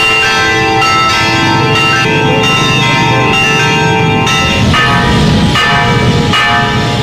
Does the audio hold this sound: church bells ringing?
yes